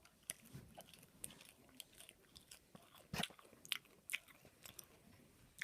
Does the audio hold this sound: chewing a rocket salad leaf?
yes